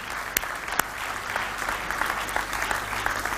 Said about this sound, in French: Est-ce qu'on peut applaudir Nawel, toute l'équipe?